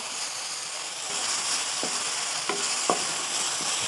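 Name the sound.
sautéing spice paste in a pan for urap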